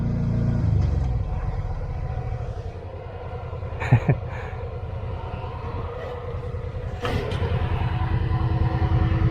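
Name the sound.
side-by-side UTV driving slowly up a rocky trail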